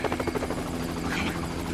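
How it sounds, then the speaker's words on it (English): A helicopter in the video game GTA Online thumps close and loud with a rapid, steady rotor chop throughout, with no talk over it. "We've called in the chopper."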